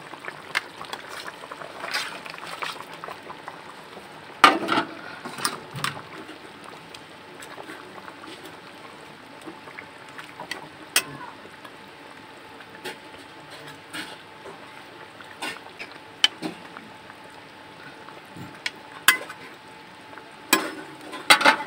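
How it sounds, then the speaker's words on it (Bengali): Catfish pieces go into a simmering potato curry for magur macher jhol, producing a steady soft bubbling with scattered sharp splashes and sizzles, near and moderately quiet, with no one speaking. "এবার আমি মাছগুলো দিয়ে দেবো।"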